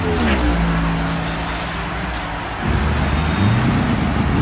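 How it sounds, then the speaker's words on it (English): Toy Hot Wheels diecast race cars, including a Dodge Viper RT10, at a starting gate with a race car engine revving effect: steady loud engine drone, a low rumbling idle that swells into a brief rev near the end. "The cars are revving their engines,"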